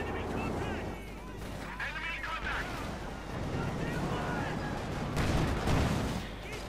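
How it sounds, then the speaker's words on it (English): Artillery barrages from Company of Heroes 2 boom repeatedly through a busy battle mix, with scattered gunfire and a commentator talking over the blasts. "Might try to silence those artillery pieces there that have been firing support here for Jove all along"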